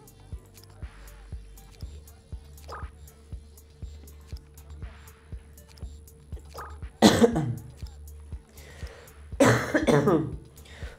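Two loud, harsh coughing fits break through the near-silence, the second longer, with faint clicking and soft speech elsewhere.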